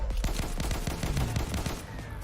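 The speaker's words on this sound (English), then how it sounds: "Who's shooting at me?" Rapid gunfire in the video game Testing Grounds, a dense burst of close, loud shots in quick succession that keeps going for the whole stretch before easing slightly at the end.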